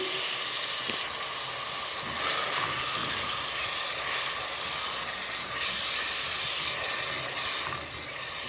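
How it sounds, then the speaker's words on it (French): Chopped onion frying in butter and a couple spoonfuls of oil in a pot: a continuous, even sizzle and steamy hiss, with a slight swell partway through. "j'ai dans la marmite un oignon haché avec un morceau de beurre et environ 2 cuillères à soupe d'huile"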